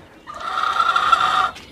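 Japanese quail chicks raised under lights on an integrated farm give a steady chorus of high chirping and peeping, close and fairly loud, lasting about a second and a half with no talking.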